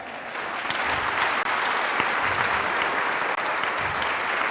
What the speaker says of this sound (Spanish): Vamos a darles un fuerte aplauso a Ciel, por favor